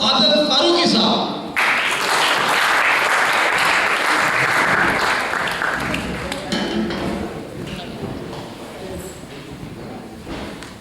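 An audience breaks into sustained, loud applause to welcome a speaker, Allama Muhammad Fayyaz Adil Farooqi, to the stage at a poetry gathering. Dense clapping fills most of the clip and slowly thins and fades toward the end.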